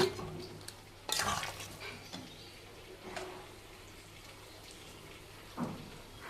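A spoon stirs a curry of fried lentil dumplings in a pot, with occasional scraping knocks against the metal over a quiet, faint background bubbling.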